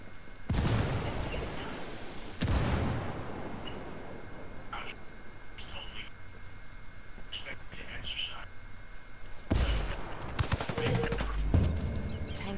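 A grenade goes off amid gunfire in a military shooter video game. Loud broadband blasts mark the start and a heavy burst comes later, with scattered shots and a low, steady combat rumble in between.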